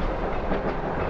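A train rumbles past in the adventure game The Longest Journey, a short, dense burst of rolling rail noise at moderate volume with no voices.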